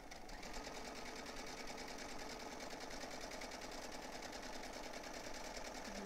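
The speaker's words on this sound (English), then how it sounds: "I'm just going to sew all the way around this following the curve" Sewing machine running continuously while stitching around the curved edge of a cloth face mask, a steady rapid mechanical whirr at moderate, close level throughout with no talking.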